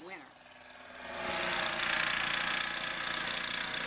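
A snowblower engine runs outdoors on a snowy road: a steady, broad mechanical roar that swells after about a second and then holds evenly at a moderate distance.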